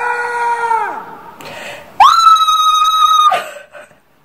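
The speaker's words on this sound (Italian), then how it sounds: "Fai un urlo, il più forte che hai sentito a scuola." A loud, shrill scream from a person at a school interview, a sustained high-pitched cry of about a second and a half after an earlier wailing note, with no talk over it.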